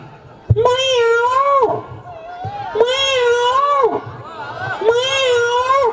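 On stage at a school annual day celebration, a performer imitates cats, giving three long, drawn-out meows in turn, close and loud, each separated by short pauses.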